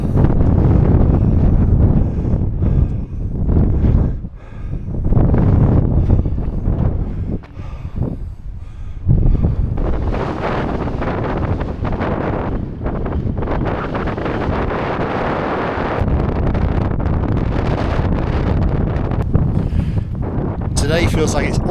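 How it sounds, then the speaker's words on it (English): Strong wind on the South Downs Way near Beachy Head roars and buffets the microphone without pause, a loud, continuous rush with gusty swells and no clear talk. "Walking into the teeth of this wind hasn't helped either."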